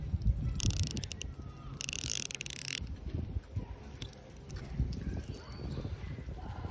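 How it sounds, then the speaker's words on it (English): Faint rapid ratcheting clicks from a unidirectional watch bezel being turned in two short bursts, under low background rumble and handling noise. "Unidirectional bezel with very loud audible clicks."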